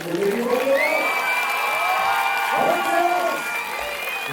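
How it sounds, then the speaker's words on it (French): A cinema audience in Brussels applauds and cheers at a screening, a loud sustained roar of clapping with whoops and shouted voices rising over it. "faites un tonnerre d'applaudissements pour nos amis ici présents ce soir"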